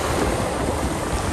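Waves wash over a pebble beach on the Black Sea coast at Lazarevskoye, with a steady, broad roar of surf and wind noise on the microphone, close and continuous with no voices.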